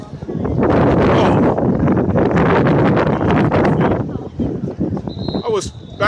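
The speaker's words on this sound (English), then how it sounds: "Whoa, it's windy out here." Strong wind buffets the microphone with a loud, continuous rumbling roar that eases toward the end, where a brief whistling tone appears.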